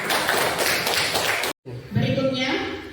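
A classroom group applauding, a dense burst of many hands clapping together that cuts off abruptly, followed by a teacher speaking.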